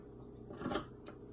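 Scissors notch dress fabric for an A-line dress with gathers, two crisp snips close by, a fuller cut followed by a brief sharper click.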